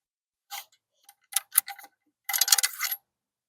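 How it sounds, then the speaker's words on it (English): A ramrod pushes a small paper wad down the barrel of a muzzle-loading carbine, making a few close, sharp taps and clicks followed by a longer scraping rattle. "Ram that down."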